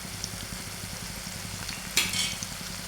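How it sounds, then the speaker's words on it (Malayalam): Mango pieces for pickle fry steadily in hot oil, a continuous close sizzle with a brief louder burst of crackle near the end, as if stirred. "ബാക്കിയും കൂടെ ഇതുപോലെ നമുക്ക് വറുത്ത് കോരാം."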